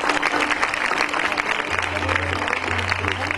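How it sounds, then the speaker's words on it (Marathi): An audience at a school reunion gathering applauds steadily and loudly throughout, a dense continuous wash of clapping with a low hum entering partway. "टाळ्यांचा जरा स्वागत करा जोरदार"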